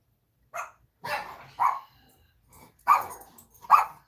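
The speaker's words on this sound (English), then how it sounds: "you guys hear my dogs going crazy?" Several sharp dog barks ring out in irregular bursts, fairly close and loud, with short pauses between them.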